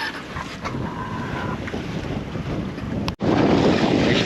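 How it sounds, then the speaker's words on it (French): Steady wind roars across a sailboat at sea on a Mediterranean-to-Atlantic passage, a continuous loud gusty rush with water noise underneath, briefly cutting out near the end before surging back. "le vent il a bien monté"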